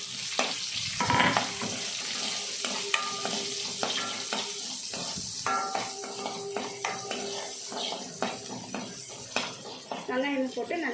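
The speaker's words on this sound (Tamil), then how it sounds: "வெங்காயம் போட்டு நல்லா வெங்காயம் வணங்கட்டும்" Onions sautéing in oil after garlic in a pan for brinjal kuzhambu, a steady close sizzle with frequent metal spatula scrapes and clinks against the pan, continuing throughout.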